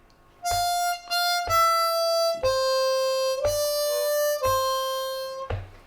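A lower-octave C harmonica plays the final line of Happy Birthday in first position, sustained, reedy notes, each held for about a second, with brief gaps between phrases.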